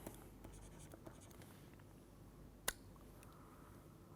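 A pen writes equations by hand on paper, a faint, steady scratching with a few light taps and one sharp click partway through, close and quiet.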